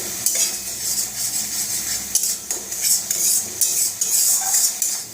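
Spice masala stirred and fried in a pan for a Bengali fish-and-potato dish, with a utensil repeatedly scraping and clinking against the metal over a steady sizzle, close and fairly loud throughout.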